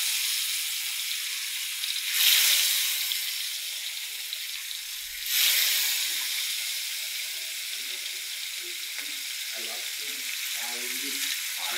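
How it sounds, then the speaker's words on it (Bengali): Carp frying in hot oil in a wok gives a steady, close sizzle throughout, with two louder hissing bursts early on and faint stirring clicks later, and no voices. "এই দেখো মাছগুলো ভাজি করতেছি।"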